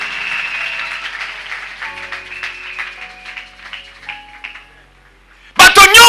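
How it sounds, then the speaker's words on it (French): A church congregation at a worship service breaks into loud, dense clapping in a short burst at the very end, after a voice speaking or singing over quieter sounds. "Beta maboko makasi mpo na yo moko."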